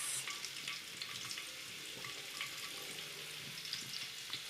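Sliced onion sizzling and frying in hot oil with panch phoron, a steady crackling hiss with small pops throughout, close and continuous with no talking.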